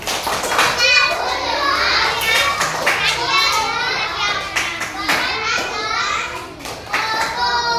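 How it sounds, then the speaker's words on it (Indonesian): A group of children in a classroom chant the 'tepuk fokus' routine in rhythmic bursts of clapping, their voices calling along over the claps at close range. "Belum semuanya. Tepuk fokus."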